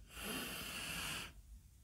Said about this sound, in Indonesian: Ambil nafas.